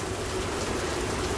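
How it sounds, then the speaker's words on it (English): Heavy pouring rain on the last day of March, a steady dense hiss of drops with no pauses, loud and continuous with no voice over it. "it's pouring rain"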